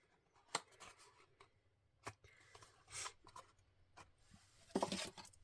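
Scissors snip through paper card while shaping a small milk-carton style box, giving a series of crisp, separate cuts with short gaps and a denser cluster of snips near the end, close and alone.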